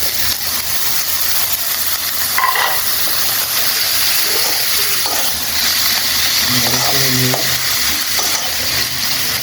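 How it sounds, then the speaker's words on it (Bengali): Boiled radish greens go into a hot pan to cook, giving a loud, steady close sizzle and hiss with occasional stirring scrapes and clinks. "এখন আমি এই যে সেদ্ধ করা শাকটা দিয়ে দেবো"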